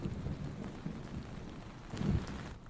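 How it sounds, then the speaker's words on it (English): A thunderstorm ambience for ASMR: steady rain patters on a tent under low rumbling thunder, with a heavier rumble near the end and no voices. "how about thunderstorm and rain on a tent, huh?"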